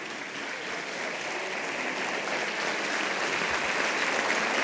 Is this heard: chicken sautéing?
no